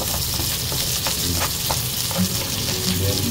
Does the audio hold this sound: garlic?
yes